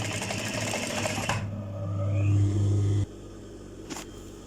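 A sewing machine runs loud and close, stitching the seat seam of a salwar with a belt waistband, a steady whirring hum that swells, then stops abruptly, leaving a quiet room with one small clack.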